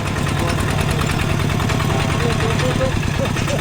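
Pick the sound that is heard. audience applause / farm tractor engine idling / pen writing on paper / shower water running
farm tractor engine idling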